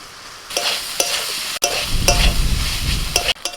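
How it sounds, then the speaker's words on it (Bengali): Boiled chicken pieces stirred and sautéed in a spiced masala of turmeric and red chilli powder, with repeated scraping stirs and steady sizzling frying close by, no voices. "তিন চার মিনিট মশলাটা কষিয়ে নিয়ে এবার সেদ্ধ করা চিকেনটা দিয়ে দিচ্ছি"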